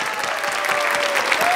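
Studio audience applause at a televised Azerbaijani singing competition final, a dense, steady wash of many hands clapping through the whole moment, loud and close, with a faint tone running beneath.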